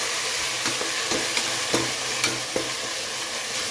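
Coriander, mint and curry leaves sauté in a hot pan with a continuous close sizzle, punctuated by a spatula's periodic scraping strokes every half second or so.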